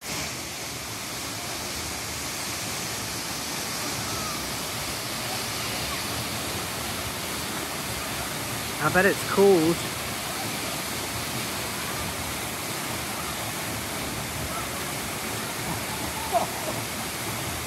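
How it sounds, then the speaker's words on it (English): A waterfall rushes steadily outdoors in a constant broadband roar, with people briefly talking over it partway through. "We should show them a clip of that. It was yeah, it was lovely waterfall"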